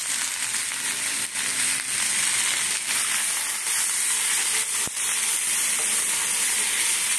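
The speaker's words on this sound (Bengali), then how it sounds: "হলুদ, নুন, কাশ্মীরি লঙ্কার গুঁড়ো একসঙ্গে দিয়ে কষাতে থাকবো আমি।" Turmeric, salt and Kashmiri chili powder sauté in a pan with a loud, unbroken sizzling hiss, nearby, with a few soft stirring knocks beneath.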